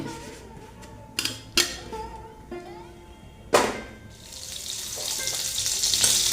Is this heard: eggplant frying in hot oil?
yes